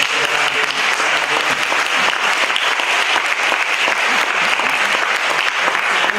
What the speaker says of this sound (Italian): questo applauso naturalmente vada a tutte coloro